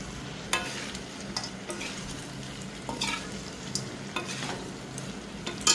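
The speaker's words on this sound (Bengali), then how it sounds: "আর সবগুলোকে একসাথে একটু হালকা করে ভেজে নিতে হবে।" Fried chicken pieces with capsicum being stirred in a pan for restaurant-style chili chicken, a steady close sizzle with occasional scrapes and clinks of a spatula against metal, no talking.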